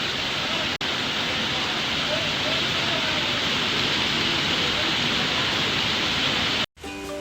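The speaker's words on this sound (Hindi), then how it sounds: "इतनी तेज़ बारिश हो रही है" Heavy rain in Nainital pours down in a dense, constant hiss, loud and unbroken, cutting off abruptly just before the end.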